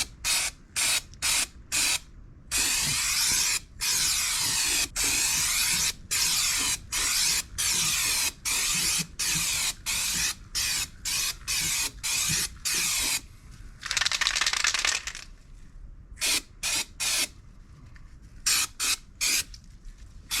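Adhesion promoter is sprayed from an aerosol can onto the underbody of a Nissan 300ZX, many short hissing bursts in a fairly quick rhythm with brief pauses between them, and one longer spray later on.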